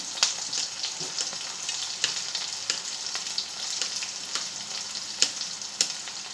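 Onions frying in a pan for a boiled-potato bhaji, a steady close hiss of sizzling oil with scattered sharp crackles and pops and no voices.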